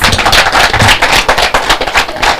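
Audience clapping for students at a Jamaican food media launch event, a loud, dense burst of many hands applauding close by, with no talk.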